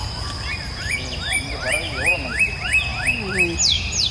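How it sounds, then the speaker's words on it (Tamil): Migratory birds calling at a village pond, a run of loud rising chirps and whistles close by, repeated rapidly over a steady outdoor background. "வெளிநாட்டு பறவைகள் பூரா வருது."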